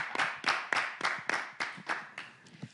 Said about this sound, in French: on applaudit Daniela pour moi